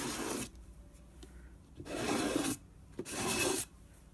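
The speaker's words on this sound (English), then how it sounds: "Take your scraper and just scrape off the shaving foam that's on there" A scraper drags shaving foam off a flat surface while making dyed paper prints, giving three rough rasping strokes separated by short pauses, close and fairly quiet.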